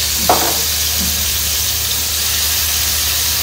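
Chicken shallow fries in a little oil over low heat, giving a steady, close, even sizzle with a brief clatter near the start and no talking.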